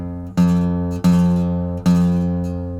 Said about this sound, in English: The string is rattling because I'm not holding it in a good position.